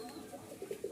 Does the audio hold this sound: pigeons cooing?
yes